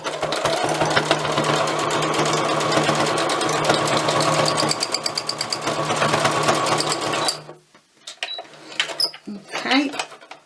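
A sewing machine doing free machine stitching runs fast and steady with a rapid mechanical rattle for about seven seconds, then stops, followed by faint handling noises and a voice speaking.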